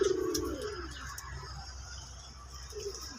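Famous Khulna cotton pigeons and Rajshahi orange-eyed black pigeons in a home loft give low, soft cooing, strongest at the start, with a second coo near the end over faint background hiss.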